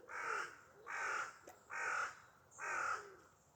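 Four evenly spaced harsh blackbird calls ring out, each lasting about half a second, fairly faint against a quiet background.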